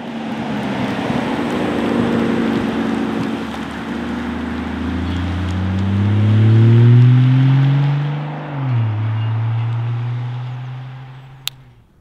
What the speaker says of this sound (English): Now that's how you turn a Rolls-Royce around.